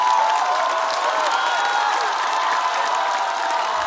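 A studio audience at a stand-up comedy competition show claps and cheers in a steady, continuous wash of applause lasting about four seconds, with a few higher shouts above it.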